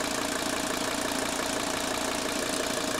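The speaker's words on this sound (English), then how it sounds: "Listen to the sound of the engine." Mercedes 300D diesel engine idling during a dual-tank SVO conversion test, a steady even clatter at moderate level, close up and alone.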